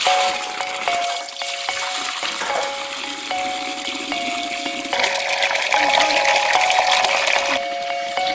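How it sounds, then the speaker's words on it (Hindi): Waterfall water channelled by villagers through a pipe in a Jharkhand tribal village pours in a steady, loud rushing stream with a metallic ringing tone, continuous and close for the whole stretch. "झरने के पानी को ग्रामीणों के द्वारा एक पाइप लगाकर अपनी सुविधा के अनुकूल बनाया गया है"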